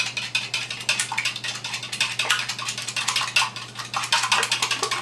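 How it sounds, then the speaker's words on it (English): A whisk beats quiche ingredients in a bowl, a rapid, steady clatter of metal wires tapping against the sides, close and continuous, with a low electrical hum underneath. "I'm going to beat them with my whisk"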